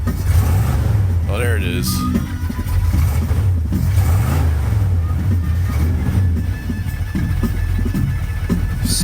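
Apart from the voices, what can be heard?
farm truck engine revving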